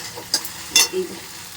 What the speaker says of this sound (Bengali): ভেন্ডি ফ্রাই